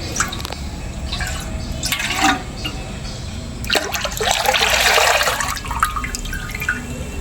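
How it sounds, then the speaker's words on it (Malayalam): Water splashes and rushes into a pot of milk for palada payasam, swelling to a strong, noisy pour midway, with drips and small clatters around it; no one speaks. "ഈ വെള്ളം ഒന്ന് ഒഴിച്ച് അത് കഴുകി ഇതിനകത്തേക്ക് ഒഴിക്കുക"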